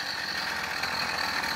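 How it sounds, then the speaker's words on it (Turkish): A small 49cc moped engine with a modified exhaust idles steadily up close, giving a continuous buzzing, rattly drone with no break across the short stretch. "Yani normal bir eski mobilet tarzında bir sesi çıkıyor."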